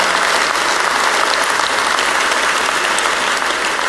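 A large conference audience at the 2017 North American Cystic Fibrosis Conference plenary gives dense, even applause that holds loud and steady throughout, with no voices over it.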